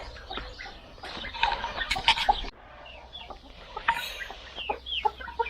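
Several chickens clucking and squawking close by, in irregular bursts of short clucks and occasional louder cries.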